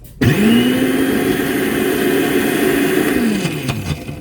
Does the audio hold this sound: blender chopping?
yes